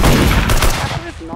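Rapid gunfire from the Roblox shooter Arsenal, a dense loud burst of shots filling the first second before trailing off, with faint voice underneath.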